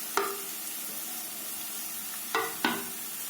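Onions go into a hot pan of chillies for a chicken momo filling and sizzle steadily and quietly, with a few sharp clinks of stirring near the start and again toward the end.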